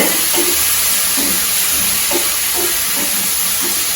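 Vegetables and tomatoes sizzle steadily in a hot pan for sambar, with soft rhythmic scrapes of stirring repeating every half second or so.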